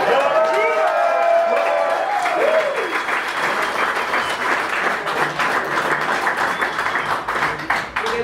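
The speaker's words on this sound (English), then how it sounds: "Let's give a round of applause to the other co-creator of Beans on Parade, Buck Newman, everybody." A live comedy show audience breaks into loud, sustained applause with some cheering, the clapping dense and continuous throughout, while a voice speaks briefly at the start.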